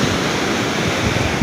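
Ocean surf rolling in at Citepus beach in Pelabuhan Ratu, a steady, loud wash of breaking waves with wind noise and no voices.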